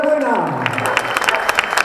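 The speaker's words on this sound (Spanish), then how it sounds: "Por favor, aplaudirle a Patricia Montalvo, esa muchacha de azul que llega ahora." Spectators at the finish of the Volta a Peu Cullera road race break into steady applause for an arriving runner, dense clapping rising under a speaking announcer.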